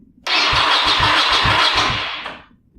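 A motorcycle starter cranks for about two seconds with a steady, harsh whir and a faint rhythmic chugging beneath it. The bike has sat unused for a long time and may be seized, and it never catches before the cranking stops.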